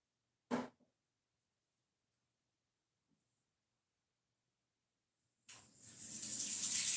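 A short clack as a sharpening stone is set down, then near silence, then tap water begins running steadily into a sink to soak the stone, a close, continuous gush.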